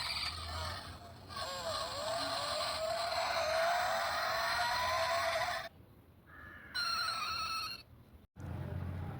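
Electronic sound effects from a Tata Nexon toy model car play loudly: a whining, rising engine tone with skidding squeals, broken by short pauses and clicks.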